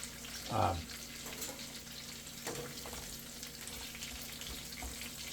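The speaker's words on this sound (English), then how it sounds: "just let it kind of sizzle while putting together the burger" A soft, continuous sizzling hiss of burger patties frying in a pan, with a brief louder splash-like burst near the start.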